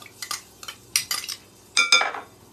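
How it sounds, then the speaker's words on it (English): A spoon stirs and tosses a salad in a bowl, producing several short, close scraping clinks of metal against the bowl in separated bursts, with no talking. "Let me grab a spoon. Okay, so we're gonna mix this all together."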